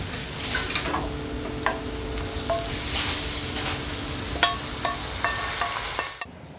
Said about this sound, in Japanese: フライパンに赤ワイン入れてアルコール飛ばしながらうまみをそぎ取って